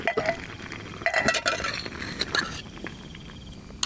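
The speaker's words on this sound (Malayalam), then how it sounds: "ഒന്ന് ഇളക്കി കൊടുക്കാം അല്ലേ?" A spoon clinks and scrapes against a pot of chicken curry being stirred at a cold mountain campsite, in quick irregular bursts of metallic clatter over faint sizzling, close up and without voices.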